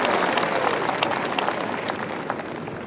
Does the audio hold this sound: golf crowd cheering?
yes